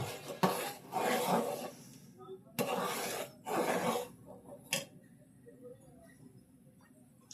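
Milk with cocoa powder, no sugar, being stirred in a pot on the stove. Intermittent scraping swishes come in a few close bursts with quiet pauses between them.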